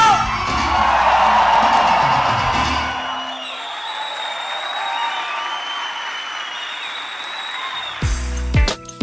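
A church congregation at a Sunday service shouts, whoops and cheers loudly, with clapping, for about three seconds. The noise then fades into a quieter crowd murmur and ends with a short burst of sound.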